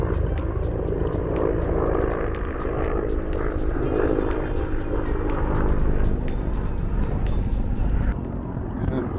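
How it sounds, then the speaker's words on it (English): Helicopters and fighter jets fly overhead above a golf course at Torrey Pines, a loud continuous rotor and engine rumble lasting throughout, with faint ticking clicks. "You got all these choppers and fighter jets flying all over the place."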